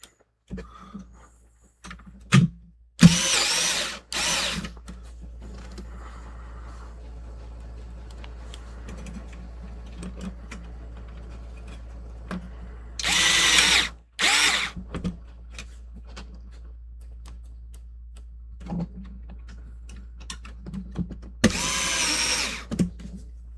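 A power screwdriver drives screws into a Famicom console under repair, with several short, loud whirring bursts separated by pauses over a steady low hum, close by and without speech.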